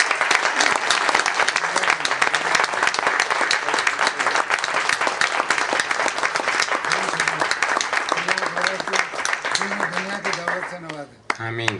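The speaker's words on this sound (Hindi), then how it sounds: "खामखा साहब के लिए ज़रा ज़ोरदार तालियां।" An audience at an Urdu poetry and comedy gathering bursts into loud, sustained applause lasting over ten seconds, dense clapping with a few voices and a brief whistle-like tone, fading near the end.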